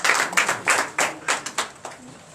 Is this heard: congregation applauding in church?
yes